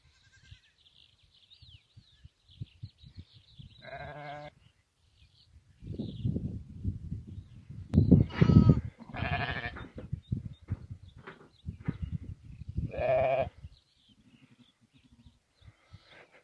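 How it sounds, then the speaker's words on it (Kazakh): Kazakh sheep being caught in a pen, with several loud, close bleats coming in separate bursts amid shuffling and scuffling noise; a short call early on, then longer strained cries later. "Келесі кезекте мына бір қазақы қой"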